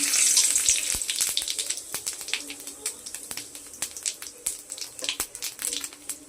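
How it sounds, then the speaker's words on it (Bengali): Bay leaves and whole cumin seeds dropped into hot oil in a kadai, crackling and sizzling with sharp irregular pops, loudest at first and then thinning into scattered spitting bursts. "আর ফোড়নে দিয়ে দিচ্ছি এই দেখুন তেজপাতা আর গোটা জিরে।"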